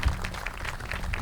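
Audience at an outdoor university ground breaking ceremony for an indoor practice facility claps together, a dense steady patter of many hands at moderate volume filling the whole moment without a break.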